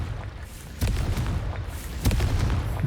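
Confringo fire spell blasts in the Hogwarts Legacy video game, two booming explosive bursts about a second apart, moderately loud over a steady rumbling game background.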